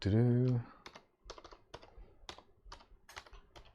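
Keys clack on a Logitech K400 Plus keyboard as a network key is entered during a PC build, a brief voiced sound first, then a run of quiet, uneven taps close by.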